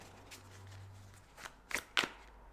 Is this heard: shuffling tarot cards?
yes